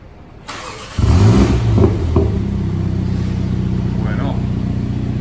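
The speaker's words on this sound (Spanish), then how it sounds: "voy a arrancar el coche." A MINI John Cooper Works GP3 with 306 horsepower starts up, a quick crank catching into a loud rev that settles to a steady, rumbling idle close by, with a voice heard at moments.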